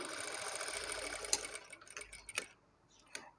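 Sewing machine stitching small fabric pieces for potli ball decorations, a quiet steady whir that winds down into a few scattered clicks and taps.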